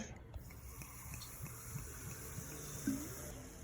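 Faint water running from a tap while berries are washed, a soft steady hiss and trickle with a few light knocks and splashes, heard at a distance.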